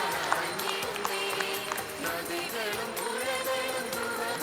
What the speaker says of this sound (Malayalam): നല്ലൊരു കൈയടിയോടെ നിങ്ങൾ കൈയടിച്ചേ